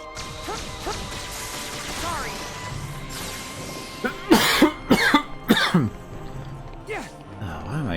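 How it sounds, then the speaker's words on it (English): A character in Kingdom Hearts 3D coughs several times in quick bursts amid game music and effects, the coughs loud and close, followed by a sharp impact sound. "Why am I coughing all of a sudden?"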